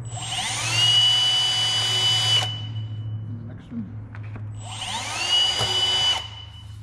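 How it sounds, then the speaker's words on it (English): A power drill drilling small holes whines in two bursts of a couple of seconds each, close and loud, with a low steady hum underneath and a brief spoken remark between. "All I got to do is just drill a little hole."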